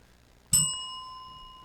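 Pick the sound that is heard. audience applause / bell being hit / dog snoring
bell being hit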